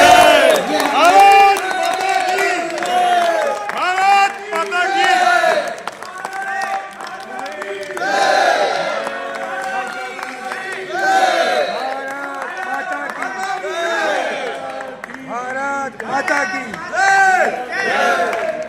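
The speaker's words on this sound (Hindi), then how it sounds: "आप सब खड़े होकर तालियां बजाकर इनका सम्मान करें।" Audience at a Republic Day poetry gathering and award ceremony rising to applaud and cheer, with sustained clapping, shouts and crowd noise throughout, and people speaking over it.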